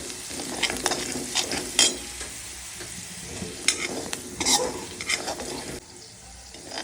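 Crushed masala spice paste fried with green chillies in a pan for samosa filling, stirred with a spoon in a steady sizzle marked by repeated sharp scraping strokes, close and fairly loud, no talking.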